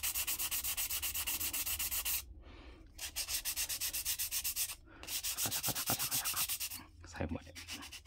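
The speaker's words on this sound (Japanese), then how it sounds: "320番で、また同じように。" Wood hand-sanded with 320 grit sandpaper gives a steady, rhythmic back-and-forth scratching. It comes close and loud, in long runs broken by brief pauses, and goes on with no talk over it.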